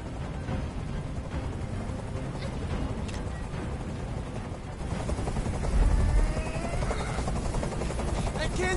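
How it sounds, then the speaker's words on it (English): A video game helicopter's rotor thrums loudly and continuously, with a deep pulsing rumble that swells midway, while a voice is faintly heard underneath. "I can't stand that noise anymore. Tell that helicopter to get out of here."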